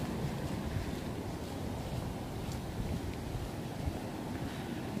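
Sea waves break and wash along the shore on a windy coastal walk, a steady broad rushing roar with buffeting wind noise on the microphone and no voices.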